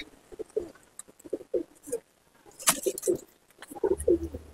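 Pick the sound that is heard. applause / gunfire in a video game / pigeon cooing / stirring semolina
pigeon cooing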